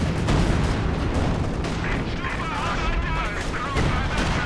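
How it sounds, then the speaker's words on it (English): Anti-tank guns firing in a Company of Heroes 2 match, with loud, booming shots and crashes layered over continuous battle noise, while a voice talks over the action. "Definitely T-guns popping off"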